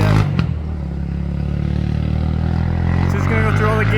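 A sports quad's engine runs roughly with its carburetor out of tune, a steady loud drone with clattering and a sharp pop near the start, while a person talks over it.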